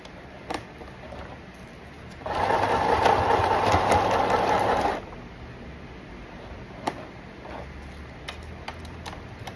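A sewing machine stitches a new dress in one steady, fairly loud run of about two and a half seconds midway, with near silence and a few small clicks before and after.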